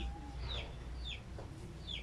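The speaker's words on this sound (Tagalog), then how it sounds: "Daghang ka lang lumos manok diri, mga manok." Chickens cluck and chirp in short, scattered calls over a steady low hum on a rural Filipino farmyard where goats and pigs are also kept, moderately faint and without talk.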